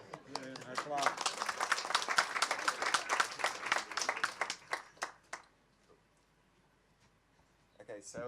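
An audience claps for several seconds, a dense burst of applause that fades out into quiet, with a voice briefly audible near the start and end.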